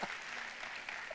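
A dense wash of applause from a church congregation during an Indonesian sermon, steady and continuous throughout, moderately loud and evenly spread, with no distinct voices.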